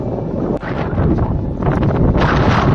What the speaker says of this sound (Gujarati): હાઈ ક્લાસ પવન આવે છે મિત્રો